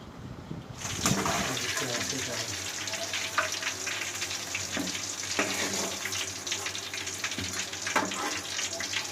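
Onions with added salt fry in a pan for a desi prawn dish, giving a dense steady hiss and crackle that starts after a brief quiet moment, close and continuous with occasional soft knocks.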